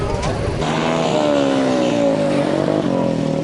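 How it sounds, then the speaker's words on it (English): Jeep engines roar and rev as the vehicles drive into the Cholistan desert near Bahawalpur, Pakistan. A loud, steady drone with rising and falling engine pitch fills the whole stretch. "people have come from all across the country to ride their jeeps into the desert"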